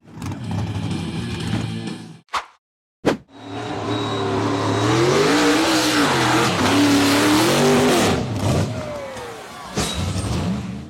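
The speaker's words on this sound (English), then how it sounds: "The green buggy accelerated hard to conquer the steep dirt slope" An off-road buggy climbs a steep, slippery dirt slope in a hill-climb event, the engine revving loud and close with rising and falling pitch after a brief sputtering start, tires scrabbling.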